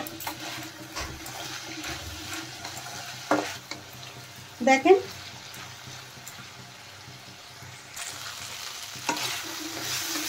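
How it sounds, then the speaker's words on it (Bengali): Drumstick (sajna) curry with tomato and spice paste fries quietly in a pan, a soft low sizzle broken by a few scraping stir strokes, with a brief spoken word over it. "আর একটু ভেজে নেব।"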